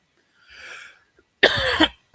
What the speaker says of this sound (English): I cannot stop coughing today.